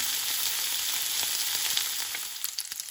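Salmon frying in a pan, heard as a close, steady hiss of hot oil that thins toward the end into scattered crackles and pops.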